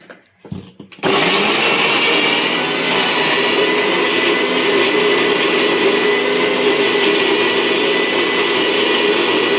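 A kitchen mixer grinder grinds chillies for soup, starting after a second of quiet and then running as a loud, steady, continuous whirring drone close by with no talk.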